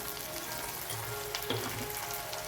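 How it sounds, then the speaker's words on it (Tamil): Onions frying in oil with spice powder for avarakkai poriyal, a soft continuous sizzle with an occasional faint stir or tap, quiet and with no one talking. "ஆனியன் நல்லா வதங்கிடுச்சு"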